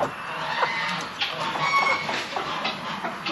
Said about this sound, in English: Sounds like the geese are arguing with some of the chickens.